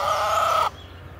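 A chicken on a free-ranging rural property gives one sustained, loud call close by while being fed, then cuts off, leaving a faint low background hum.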